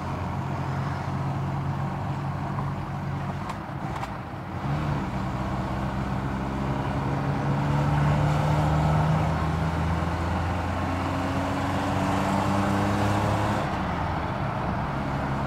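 A Lada 2103 car drives along a road, its engine droning steadily with road and wind noise throughout, rising slightly in pitch midway as it gathers speed.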